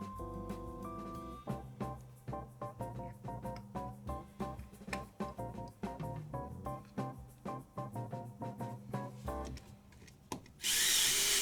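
A power drill backs rusty screws out of a planar loudspeaker, its motor whining in short repeated bursts that rise and fall in pitch.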